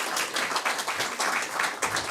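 A meeting-room audience applauds in a brief, fairly close burst of dense clapping that holds steady for a couple of seconds.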